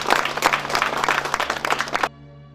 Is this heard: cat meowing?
no